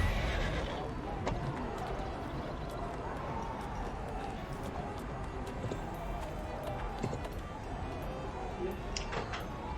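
Horse mount galloping in the fantasy video game Neverwinter, a steady clip-clop running under game ambience and a voice talking over it throughout.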